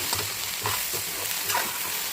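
Okra sizzles gently in a pan with little oil while a spoon stirs it in slow, repeated scraping strokes, close by and steady.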